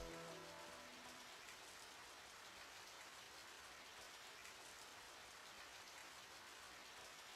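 Rain in the video game Radiant Historia: Perfect Chronology falls as a soft, even hiss of steady rainfall with no distinct drops standing out. A brief musical tone fades away at the start.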